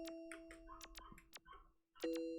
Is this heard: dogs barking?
yes